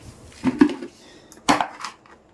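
Dishes and metal utensils clatter inside a food bucket of leftover meal, several close rattling bursts in two clusters against quiet room noise.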